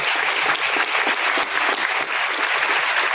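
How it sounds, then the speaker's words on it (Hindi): An audience at a network marketing meeting bursts into dense, continuous applause, many hands clapping together loudly with no voices over it. "मेरी अपलाइन के लिए आपको बहुत तालियां मारनी पड़ेगी। एक बार मारिए आप।"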